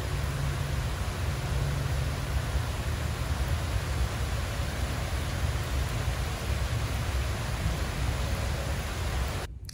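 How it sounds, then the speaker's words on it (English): Dense, steady hiss of heavy rain pouring without pause, loud and close, filling the whole stretch before cutting off abruptly at the end. "It is pouring down rain."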